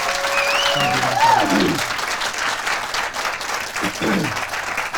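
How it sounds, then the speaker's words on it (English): Audience applause at a leadership talk, a sustained wash of clapping from a crowd with a few voices over it, holding steady for several seconds. "Please give me a big hand of applause."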